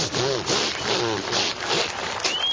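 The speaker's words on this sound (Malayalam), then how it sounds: "ഇതേ ബ്ലേഡ് വെച്ച് പ്ലൈവുഡ് കട്ട് ചെയ്യുന്ന ശബ്ദം." A saw blade cutting through plywood, giving repeated rasping strokes in close succession, loud and close with no talk.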